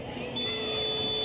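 Basketball game buzzer at a FIBA 3x3 women's series game, a steady electronic tone held throughout against the hum of an arena crowd.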